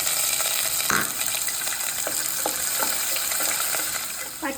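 Onion goes into a hot pan for lemon rice and fries with a continuous sizzle, marked by a few soft stirring scrapes and clinks. No one speaks.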